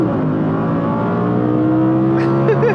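An Audi R8 V10 engine revs hard and close in performance mode, a loud sustained howl climbing in pitch with a quick blip at the end.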